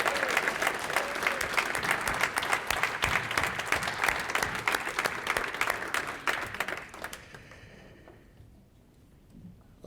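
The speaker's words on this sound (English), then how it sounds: "How about one final round of applause for all of our speakers and presenters and honorees tonight?" Sustained applause from an audience at a religious leadership network's 30th anniversary celebration for the speakers and honorees, dense clapping for about seven seconds before fading out to near silence.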